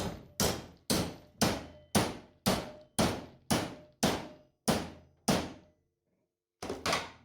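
Eleven loud metallic hammer strikes bang on sheet metal, bending a Cadillac rear end ear reinforcement over, in a steady rhythm, each ringing briefly, with a short pause before the final pair.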